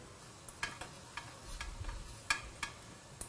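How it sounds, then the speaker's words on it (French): Leftover soap scraps melting with hydrosol in a bain-marie for homemade shower gel get mashed, producing faint, sparse scraping clicks and taps over a quiet low hiss. "on aide à la fonte en écrasant les restes de savon"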